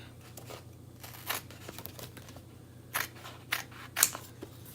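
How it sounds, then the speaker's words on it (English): Scissors snip close by as a chalk transfer sheet is trimmed, a few crisp separate cuts with quiet gaps between them and faint crinkling of the sheet, with no one talking. "let's get our scissors here, our trimmers. And we're just gonna trim that up."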